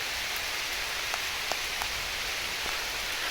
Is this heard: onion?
no